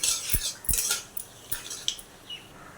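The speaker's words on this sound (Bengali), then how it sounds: "এরপর তেজপাতা দিয়ে একটু নাড়াচাড়া করি" Whole spices and a bay leaf stirred in a pan with nigella seeds while cooking a taro curry, giving a few sharp utensil scrapes and clinks against the metal, spaced irregularly and close up.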